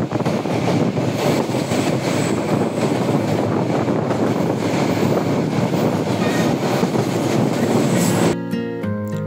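The Parjotak Express train from Chittagong to Cox's Bazar rumbles steadily along the tracks past Satkania station, a loud continuous roar of wheels and rattling carriages heard from inside, ending abruptly.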